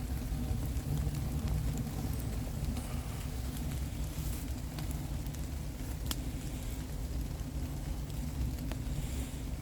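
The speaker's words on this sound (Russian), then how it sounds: "А кругом дождь, осенний лес." Steady rain falls in an autumn forest, beside a titanium camp stove that is burning while water boils on it during a cold-weather hike; a continuous dense hiss with a low rumble runs throughout, with no talk.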